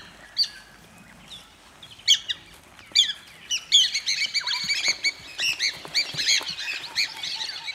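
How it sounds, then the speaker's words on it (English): Piapiak birds call in a sociable flock among grazing pachyderms, giving a rapid, overlapping series of sharp squawks and chirps that start sparse and build into a dense, continuous chatter. "Piapiaks peck the insects the grazing pachyderms stir up and also gather"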